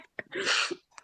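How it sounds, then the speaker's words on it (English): One close, sharp sneeze from a man partly holding it back, with a quick intake of breath before a burst of noisy air, in a quiet indoor podcast setting. "I was mid-sneeze, yeah, and I'm just holding back."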